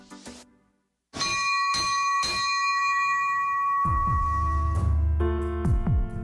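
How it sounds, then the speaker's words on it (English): A bright bell rings out several times before a basketball game, each strike leaving a long, shimmering decay, with a low hum rising underneath toward the end. "As we ring the bell to start tonight's game"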